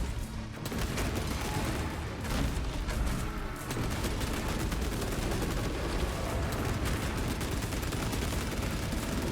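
Heavy bolter firing in the video game Space Marine 2: a sustained, dense stream of booming rapid shots that runs almost unbroken for the whole stretch, loud and close, with a short lull near the start.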